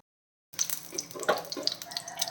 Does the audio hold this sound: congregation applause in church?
no